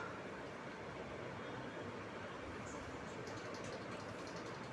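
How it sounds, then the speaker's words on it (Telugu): A Hyderabad metro train ride from Khairatabad station: a constant, even rumble and hiss of the moving carriage fills the whole stretch, with no clear voices. "ఫైనల్గా మెట్రో అయితే ఎక్కేసాము, ఖైరతాబాద్ మెట్రో."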